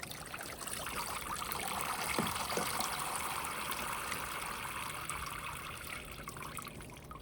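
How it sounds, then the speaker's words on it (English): Water pours and trickles steadily into the plastic basin of a Step2 Rain Showers toy water table, a continuous splashy stream at moderate volume with no voices. "let's go ahead and pour some water up here and see how it works"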